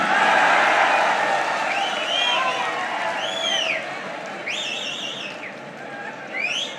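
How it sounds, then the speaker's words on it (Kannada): An audience at a gathering of teachers addressed by Chief Minister Siddaramaiah claps and cheers in a dense, sustained roar, with several sharp rising and falling whistles cutting through near the end. "ಹೊಡಿರಿ ಚಪ್ಪಾಳೆ."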